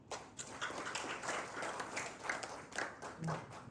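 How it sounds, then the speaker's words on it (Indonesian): A church congregation in Cipanas claps together during a sermon, a dense, steady patter of many hands that swells and dips slightly throughout, with a faint voice underneath. "Tepuk tangan untuk Tuhan."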